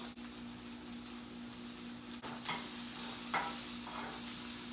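Spinach is stirred into a hot pan on a switched-off stove after cooking chicken, a quiet sizzle with a low steady hum and a few soft swishing stirs.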